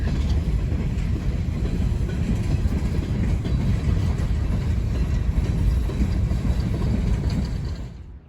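A freight train rumbles steadily past close by, crossing under a Norfolk Southern bridge in Kenova, West Virginia, a heavy continuous roar with faint rail clatter, dropping away sharply at the very end.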